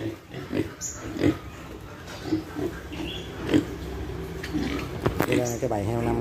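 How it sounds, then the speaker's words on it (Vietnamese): A group of five young piglets grunts and snorts while eating soaked bran from a trough, with short, close grunts scattered throughout and a voice speaking faintly in the background. "Đây là cái bầy heo 5 con tơi này các bạn"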